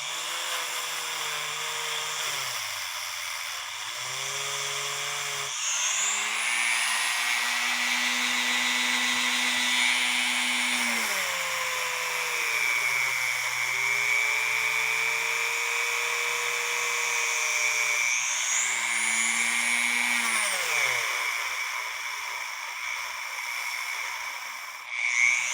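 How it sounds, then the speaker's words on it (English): A Dremel rotary tool with a brass brush whines steadily while cleaning brass cuckoo clock parts, its pitch dipping and rising as the brush presses on and lifts off the metal. "So here I have a brass brush in my Dremel."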